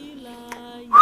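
A single sustained whistle holds a steady pitched tone, loud and close, then breaks into a brighter rising note at the end, with no talking.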